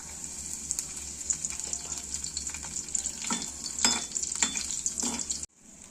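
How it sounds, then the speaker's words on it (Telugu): Dried prawns sizzle and fry in a pan, a steady bright hiss broken by a few louder stirring scrapes near the end, close and continuous, before cutting off abruptly. "ఎండ్రాయిలు ఫ్రై చేసుకుందాం"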